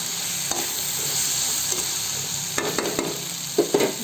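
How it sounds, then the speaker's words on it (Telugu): Okra frying on low heat in a pan, sizzling steadily while a spoon stirs it now and then, with scrapes that grow busier and louder toward the end. "చూడండి, మధ్య మధ్యలో కలుపుతూ ఉండాలి."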